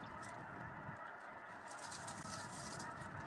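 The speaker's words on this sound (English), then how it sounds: "Man, there are a lot of birds." Many birds, likely geese or similar fowl, call outdoors in a dense, steady chorus that fills the whole stretch at moderate distance, with no clear pauses.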